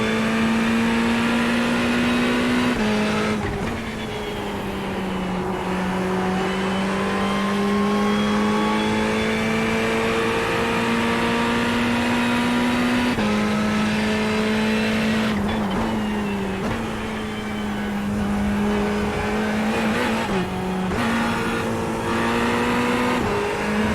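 An iRacing race car at Spa: the engine revs hard and continuously for over twenty seconds, its pitch climbing and then dropping sharply at each of several gear changes, with no voices over it.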